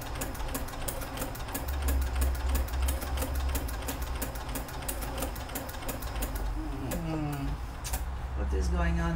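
A Janome sewing machine fitted with a ruffler foot runs at close range, sewing lace onto fabric with a fast, even stream of needle clicks. A brief voice breaks in near the end.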